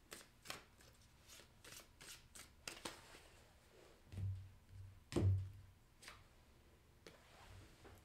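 Playing cards riffled and shuffled in a series of quiet, crisp bursts, with a few soft taps and handling thumps between them, close and alone.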